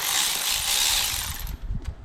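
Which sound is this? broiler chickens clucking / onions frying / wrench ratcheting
wrench ratcheting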